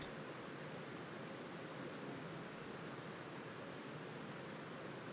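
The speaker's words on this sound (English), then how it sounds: "the relaxing sound of the creek be" Steady broadband rush of a creek flowing at a golf course, a continuous soft wash of water running alone with no voices, even and unbroken throughout.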